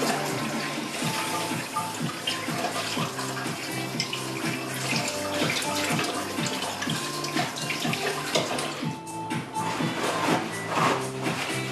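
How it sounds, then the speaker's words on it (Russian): A tap runs steadily while hands are washed beneath it, a continuous close rush of water with faint splashing, plus a soft repeating low hum from the room, no talk. "Сейчас только руки помою."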